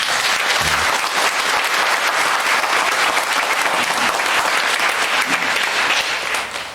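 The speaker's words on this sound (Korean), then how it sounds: "그 폐기에 여러 교사들이 교회 살리도록 격려의 박수를 한번 보냅시다" Congregation applauding during a Sunday worship service at Sinkwang Dure Church, a dense, steady wash of many hands clapping close by throughout, without talk.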